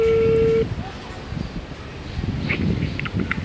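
A phone placing a call to a friend gives a single steady electronic tone lasting just over half a second, followed by faint handling and rustling noise.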